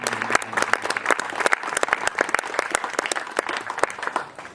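Applause from an audience at a Think Together Bay Area fundraising event, a loose patter of individual claps that starts sparse and thickens into steady clapping, fading toward the end.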